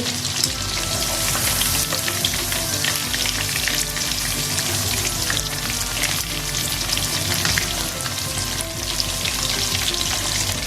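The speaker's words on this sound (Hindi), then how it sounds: "मीडियम लो फ्लेम में हम इसको फ्राई करना है" Chicken zinger strips coated in Kurkure and Lays crumbs deep fry in oil over a medium-low flame, a loud dense bubbling sizzle that stays constant and close throughout.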